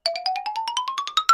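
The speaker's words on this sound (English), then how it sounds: "Retro sound effects." A retro chiptune chime plays as a quick run of about a dozen bright electronic blips climbing steadily in pitch, clear and close, lasting just over a second with no voice.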